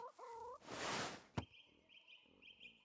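Chickens in the Pentiment video game cluck and gobble up close, followed by a rushing whoosh and a sharp thump, then a thin repeated chirping in a quiet background.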